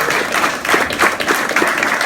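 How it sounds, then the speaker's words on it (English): A crowd at a talk applauds a top drill team with loud, full clapping that surges and dips in waves, close and filling the room, with no voices over it. "let's give them a round of applause for representation"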